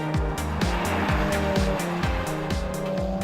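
A tuned BMW 335i running about 1.4 bar of boost accelerates hard, its engine rising in repeated pitch sweeps through quick successive gear changes, loud and close throughout.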